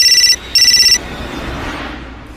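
A mobile phone ringtone sounds as a sound effect in a Hindi horror story: two loud, bright electronic ringing bursts with a short gap between them, then a fading tail.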